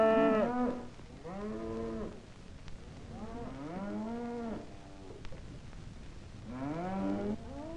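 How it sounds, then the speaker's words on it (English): Cattle at stockyards in Wichita, Kansas, bellow in several long, drawn-out moos, rising and falling calls spaced apart at moderate distance, with no talking over them. "These stockyards are in Wichita,"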